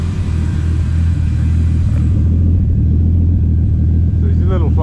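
Car engine idling a little unevenly on 91-octane fuel, a loud low rumble heard from close inside the cabin, steady throughout with faint rustling near the end.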